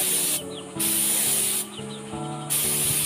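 An aerosol spray can lays a top coat of paint on a Yamaha Aerox motorcycle mag wheel in three steady hissing bursts separated by brief pauses, heard close and loud with no talking.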